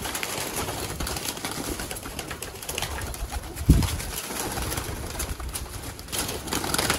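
Golden pigeons coo in a low, soft murmur amid steady background noise, with one brief louder thump partway through and no voices.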